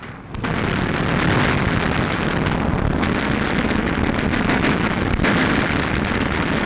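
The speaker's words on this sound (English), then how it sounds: "Watch this explosion." A deep, sustained roar of an explosion rumbling on continuously for several seconds, loud and heavy in the low end.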